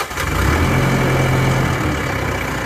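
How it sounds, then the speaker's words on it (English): New Holland compact tractor engine just after starting with the key, a loud low diesel rumble settling into a steady close idle. "Now we're ready to just fire up by turning the key."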